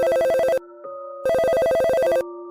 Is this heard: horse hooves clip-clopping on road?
no